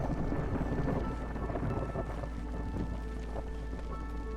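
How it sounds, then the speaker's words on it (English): A thunderstorm in the video game Against the Storm: low, rolling thunder rumbles beneath a steady wash of rain, loud at first and easing slightly, with no talking. "Storm's rolling in."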